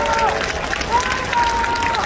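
A concert audience applauds the Seoul Philharmonic Orchestra after a Liberation Day anniversary concert with Brahms and Elgar, a dense, steady wash of clapping with a voice carrying over it.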